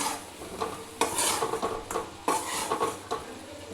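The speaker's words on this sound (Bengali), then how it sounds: "এটা একবারে কম মশলা কম তেলে চিকেনটা রান্না করছি" Chicken cooking in a pan with a pinch of oil and light spice, a soft sizzle broken by several bursts of stirring and scraping, close and fairly loud, with no talk.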